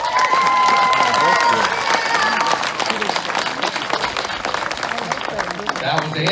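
A crowd applauds as a vote for hobo queen is held at the National Hobo Convention in Britt, Iowa, with dense, sustained clapping and a few cheers mixed in, fairly loud throughout.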